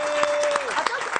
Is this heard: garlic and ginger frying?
no